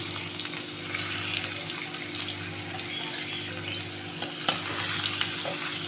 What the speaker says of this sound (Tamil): இந்த ப்ரானை நல்லா ஃப்ரை பண்ணி எடுத்துக்கலாம். ஆயில் நல்லா சூடேறிச்சு.